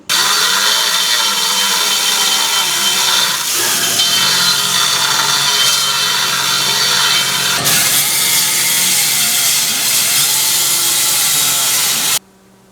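A power tool saws through the ridge of a brake dust shield on a Subaru WRX STI. The grinding is loud, close and harsh, with a wavering pitch, and runs continuously before stopping abruptly.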